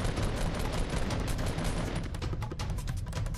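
Rapid, dense gunfire crackles steadily in a Fortnite match after switching to a sniper rifle, a loud continuous volley with no talking.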